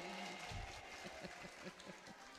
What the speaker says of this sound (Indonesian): Tepuk tangan sama para pedagang di sini.